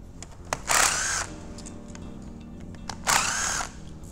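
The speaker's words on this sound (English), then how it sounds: "Remove the four bolts that hold back the retaining ring." Power tool whirring in two short bursts as bolts are removed from the retaining ring on a Limitorque MX10 electric actuator during a hand wheel conversion, with quiet handling noise in between.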